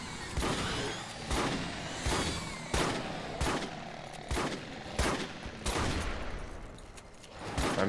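Rapid gunfire rattles in bursts in the Starship Troopers video game as a creature is shot, loud and dense, with sharp shot transients repeating roughly every half second over a heavy rumbling battle background.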